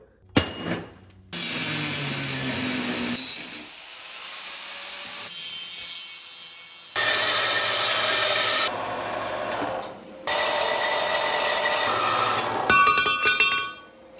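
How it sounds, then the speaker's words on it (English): A chop saw cuts through stainless steel in several loud, sustained bursts with brief pauses between them, each a harsh, gritty grinding screech ending in a short clatter. "That's what a stainless cut looks like on the chop saw."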